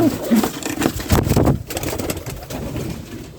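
Pigeons in a loft with large chicks coo in low, throaty bursts close by, the calls overlapping and steady across the moment.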